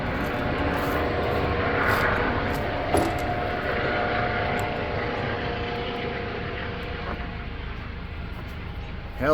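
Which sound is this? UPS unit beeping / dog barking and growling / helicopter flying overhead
helicopter flying overhead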